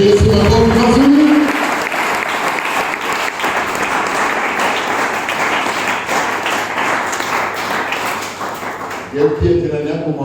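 Sustained applause rises from a church congregation, loud and unbroken for several seconds, with someone speaking briefly at the start and again as the clapping fades at the end.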